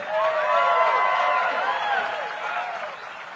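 A crowd at a bass fishing tournament weigh-in on the St. Johns River claps and cheers, a dense wash of applause with whoops that fades slightly toward the end.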